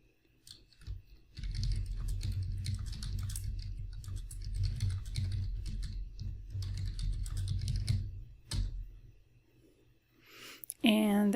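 Keys clatter steadily on a computer keyboard as an app description is typed into a Salesforce details form. The dense run of clicks lasts most of the clip over a low hum, with a short pause near the end.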